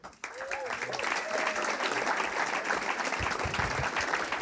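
Applause from a comedy club audience between comics, a dense steady clatter of clapping that swells in after a brief quiet start and holds loud throughout, with a faint voice briefly audible near the beginning.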